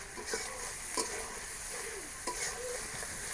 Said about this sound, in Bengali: একটু ভালোভাবে আমি তেলটা মশলাটা ভাজা নেব শুটকিতে